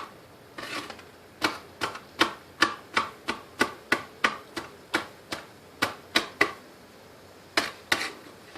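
A knife dices garlic finely on a cutting board, making sharp, close taps in a quick even beat with a short pause near the end, and no talk.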